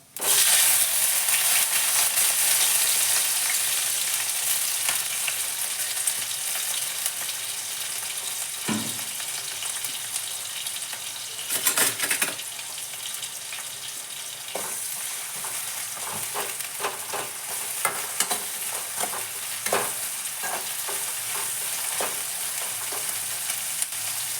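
Small onions fry in a pan for a vegetable palya, giving a loud continuous sizzle with intermittent scraping and clattering as they are stirred.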